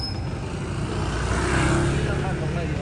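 A motorized tricycle passes along a busy street, a steady low engine rumble with traffic noise that swells slightly midway, heard close under a talking voice.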